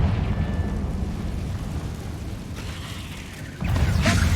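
A Confringo fire spell goes off in Hogwarts Legacy, a loud rumbling blast that swells and fades over a few seconds before a second burst flares up near the end.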